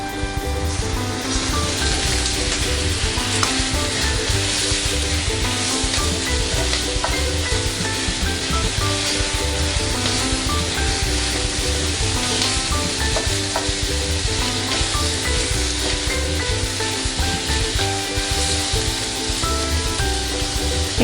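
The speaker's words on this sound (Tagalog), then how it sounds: "Ilagay na natin yung ating pork." Pork frying with onion and garlic in a pan for Bicol Express pasta makes a loud, dense, continuous sizzle with steady crackle, close up and unbroken, alongside a faint repeating musical pattern and no speech.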